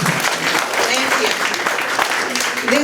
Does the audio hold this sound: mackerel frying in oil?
no